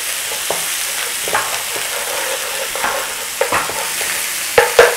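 Spices blooming in hot oil over already-cooked onions as the base for chicken jalfrezi, a steady close sizzle with scattered spoon scrapes and a couple of sharper pops near the end.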